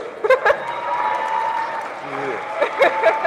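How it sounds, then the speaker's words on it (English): A graduation commencement crowd applauding a speaker, a steady wash of clapping at moderate loudness with a few brief vocal sounds over it. "Let's give her another round of applause to get her up here with a tour"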